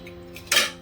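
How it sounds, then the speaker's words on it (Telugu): A small kadai pan is set down on a stove with a single sharp metallic clank that rings briefly, following a quiet lead-in, with no talking. "చిన్న కడాయి పెట్టాను,"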